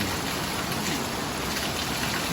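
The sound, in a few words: rain falling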